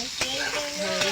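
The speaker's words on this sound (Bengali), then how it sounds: "পটলটা আমি নাড়াচাড়া করে ভেজে নেব" Pointed gourd (potol) frying in a kadai, a bright continuous sizzle with a few quick spatula scrapes as the pieces are turned.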